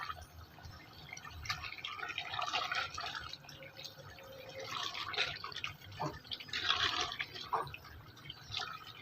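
Water poured steadily into a cooking pot of ojri (tripe) curry, a continuous splashing and trickling fill with a few louder surges, heard close with no talking.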